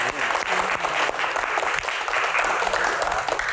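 Studio audience applause at an Indonesian disaster-agency Q&A event, steady dense clapping sustained throughout, loud and close with a faint murmur of voices underneath.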